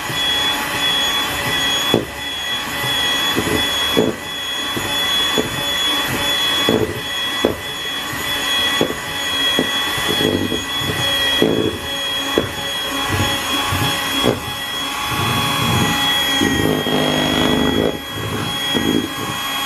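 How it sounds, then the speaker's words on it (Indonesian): An electric mixer beats tiramisu cheese cake batter for a sliced sponge cake, a steady loud whirring drone throughout with faint periodic knocks of the beaters against the bowl. "Ya, kita mixer lagi."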